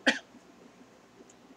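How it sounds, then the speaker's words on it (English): A single short cough into the elbow, fairly faint and close, followed by quiet room background. "that's the correct way to cough"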